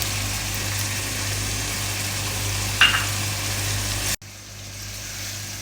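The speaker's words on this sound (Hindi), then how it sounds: "अब इस स्टेज पे आके हम इसमें ये साबुत गरम मसाले ऐड करेंगे और इनको हल्का सा फ्राई होने देंगे" Onions and whole garam masala spices frying in a pan, a steady broadband sizzle over a low hum, with a brief clink midway before the sizzle abruptly cuts off and resumes more quietly.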